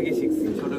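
Giribaz pigeons coo up close in a single short, low, throaty call as the birds are released, with the sound of a brief moment at a loft.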